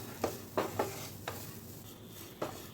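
Peeled sweet potato pieces cook in ghee over a low flame, a quiet soft sizzle broken by a handful of spaced utensil knocks and stirring clinks against the pan, close and faint.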